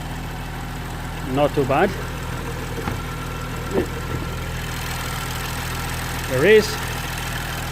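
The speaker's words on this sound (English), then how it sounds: "And the engine is actually running" A BMW 135i F20 engine idles rough and steadily in the background, a low continuous drone, while someone talks over it.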